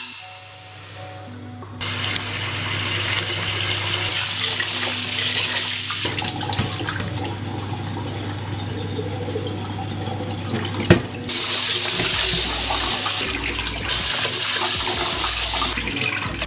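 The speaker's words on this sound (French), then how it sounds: "maintenant je vais rincer le riz." Tap water running over rice for sushi as it is rinsed, a steady close rush of water that stops and starts in a few bursts, with some sloshing and handling noises between them.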